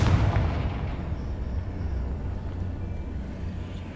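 A Confringo blasting spell goes off in Hogwarts Legacy, a heavy booming explosion up front that settles into a sustained low rumble for a few seconds.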